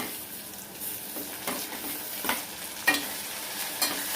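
Tomato pieces and golden onions fry in a pan with a faint, steady sizzle, broken by a few soft stirring scrapes and taps spaced through the clip.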